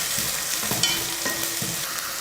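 Sliced beans and carrots sautéing in a pan, a steady close sizzle with a few scraping stirs of the spoon, loud and continuous, no voices.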